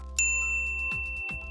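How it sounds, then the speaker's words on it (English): A bright notification bell rings once sharply, followed by a sustained ringing tone with two softer low whooshes, loud and alone with no talking. "ring the bell to be notified about our latest videos"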